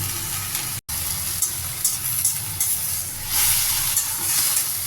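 Pirandai (adamant creeper) sautéing in a pan for thuvaiyal, a steady close sizzle with soft stirring scrapes and a brief cut partway through, no voices.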